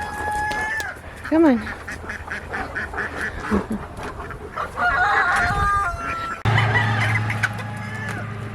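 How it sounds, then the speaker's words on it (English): Chickens cluck and crow in a lively backyard flock, mixed with duck-like quacking, several calls rising and falling in quick succession, close and fairly loud, with a person speaking briefly over them. "The chickens jump and get the green."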